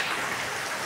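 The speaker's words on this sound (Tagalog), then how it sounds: "Ang init kanina tapos lumakas ang ulan." Heavy rain pouring down in a brief, dense, even hiss of countless drops striking surfaces, close and steady, with no voices.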